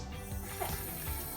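Tap water runs steadily into a sink while makeup brushes are rinsed, a close, continuous wash of water noise with small splashes and no talking.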